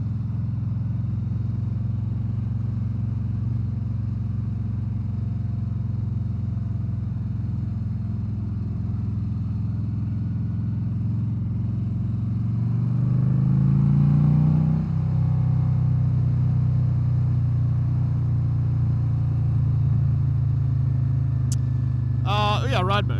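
A 2023 Harley-Davidson CVO Street Glide engine drones steadily while riding, with wind rush, and revs up noticeably partway through before settling back to a steady low rumble; a rider talks over it.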